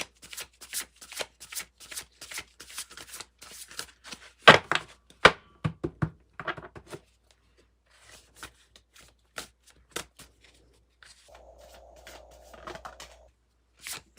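Tarot oracle cards shuffled by hand, a quick string of crisp papery riffles and taps, close and clear, followed by a few louder slaps and scattered soft clicks.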